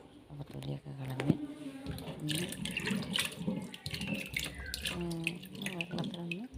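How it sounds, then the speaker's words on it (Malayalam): Two peeled potatoes are rinsed in water in a kitchen sink. Water runs and splashes near the microphone, with sloshing and dripping throughout, while a person talks over it. "വെള്ളത്തിലൊന്ന് ജസ്റ്റ് ഒന്ന് കഴുകിയെടുക്കാം."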